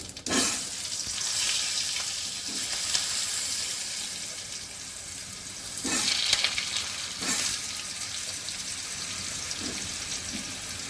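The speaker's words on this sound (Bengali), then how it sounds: "এবার আমি আলুগুলো দিয়ে দিচ্ছি" Potatoes hit hot oil tempered with two dry red chillies, garam masala and cumin for a spiny gourd curry, giving a steady close sizzle with sharper bursts near the start and again midway.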